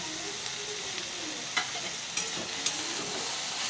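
Chopped vegetables with green chillies and red chilli powder fry in a pan for veg patties. A faint, steady sizzle is broken by a few light clinks of stirring, with no voices.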